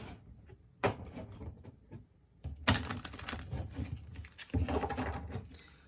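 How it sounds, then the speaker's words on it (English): Crisp papery riffling and slaps of a tarot card deck being shuffled in several bursts, close by, with quiet pauses between. "One more shuffle this way."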